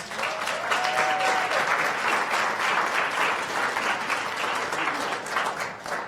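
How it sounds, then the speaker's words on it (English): Sustained applause with some cheering from an audience fills a city council session in Tucson, a dense, steady wash of clapping that carries on evenly without pause. "I can see you brought a big cheering section."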